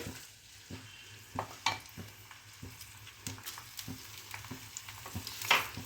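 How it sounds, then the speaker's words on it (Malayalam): Chopped garlic and green chilies sauté in a pan for mango ginger pickle, a low sizzle under repeated scraping stir strokes, fairly quiet and close, with no talking. "ഈ വെളുത്തുള്ളിയും പച്ചമുളകും നന്നായിട്ട് വഴറ്റിയെടുക്കേണ്ടതാണ്"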